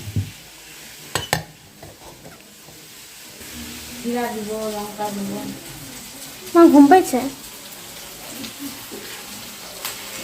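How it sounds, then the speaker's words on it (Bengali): Okra frying in a pan gives a steady background sizzle, with stirring scrapes and a few clinks of utensil on metal. People talk casually over it. "এখানে ভেন্ডি ভাজা করছে,"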